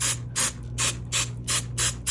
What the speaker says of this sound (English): I'm just gonna spray these.